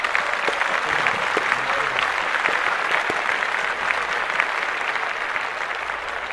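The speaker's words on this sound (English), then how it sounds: "Let's clap that up." A small group of podcast hosts clapping together at a sports news segment, steady dense applause throughout without pause.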